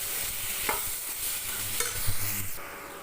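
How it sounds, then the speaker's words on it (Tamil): Shredded cabbage sautés in a pan for chutney, with a steady close sizzle and a few scraping stirs of a spoon against the pan. "இன்னும் கொஞ்சம் நேரம் நல்லா வதங்கட்டும்"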